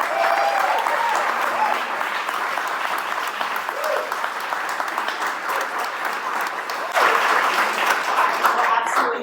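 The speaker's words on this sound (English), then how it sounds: "I first want to give the students from Center of Life's Jazz and Crump programs a huge round of applause" A large audience gives sustained applause for students from jazz and Crump programs at an evening community event, with steady dense clapping throughout and a slight swell near the end.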